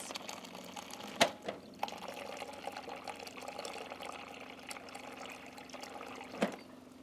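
Warm water runs from a water dispenser into a bowl, a steady faint pour with a couple of sharp knocks near the start and end.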